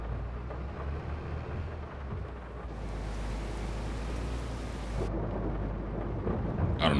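Steady rain and rumbling thunder in the farming video game Farming Simulator 22, a dense continuous downpour hiss over low rumble that swells partway through, with no talking.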